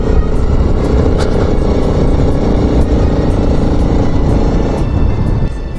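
A motorcycle chases a fast-moving bus along a steep mountain road between Siliguri and Gangtok, its engine a steady, close, loud roar mixed with rumbling wind, with no talking.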